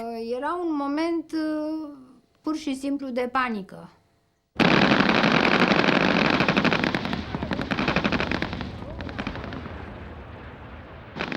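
Rapid sniper and automatic gunfire during street fighting in the 1989 revolution, with dense, loud bursts of shots that carry on continuously after a few seconds of someone speaking.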